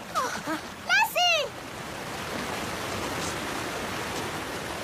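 A waterfall roars as a steady, broad rush of water. Over its first seconds a voice rises, then comes a dog's sharp yelps, and after that the falling water carries on alone, loud and close.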